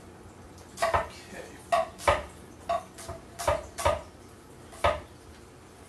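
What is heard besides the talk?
knife slicing and dicing an onion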